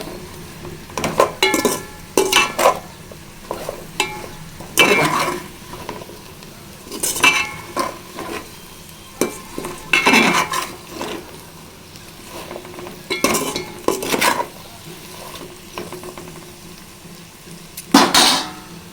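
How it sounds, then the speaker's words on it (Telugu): Bitter gourd softening in oil in a pan, stirred with a metal spoon: distinct clinks and scrapes against the pan come in irregular bursts over a low sizzle, loud and close, without talk. "రెండు నిమిషాలకు ఇలా కలుపుతూ ఉండాలండి, మగ్గాలి."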